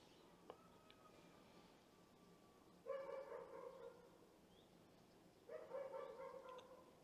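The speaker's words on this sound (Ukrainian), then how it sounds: "Мікрофон, напевно, ловить вам навіть як пси гавкають десь там далеко-далеко." Faint barking from distant dogs comes in two short bursts. A quiet, steady room hiss sits underneath, and a small click is heard early on.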